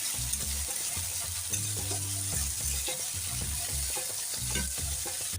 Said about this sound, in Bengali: আমি এখন সবজি দিচ্ছি আমি জলের থেকে ভালো করে ধুয়ে তুলে রেখে দিয়েছিলাম ভালো করে নেড়ে করে নেব